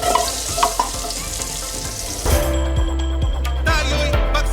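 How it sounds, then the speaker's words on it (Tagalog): Garlic sautés loudly in a pan for a boiled pork head dish (nilagang ulo), a close crackling sizzle with occasional clacks of a utensil against the pan and no speech. "nagisa na natin yung ating garlic"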